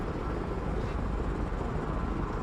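A Little Bird helicopter in the video game Broken Arrow makes a steady close rotor drone throughout, with no speech over it.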